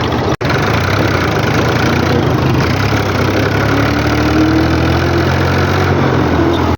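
A tractor engine running for wheat sowing in a farm field, a loud, steady low droning idle with a rough knocking rumble, close and continuous, briefly interrupted by a sharp click near the start, with no talking.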